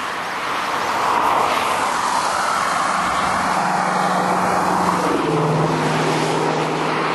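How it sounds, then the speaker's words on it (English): Dense road traffic rushes past in a continuous broadband roar, vehicles blending into one steady wash with a low engine hum rising near the end and no speech on top. "Traffic is crazy today."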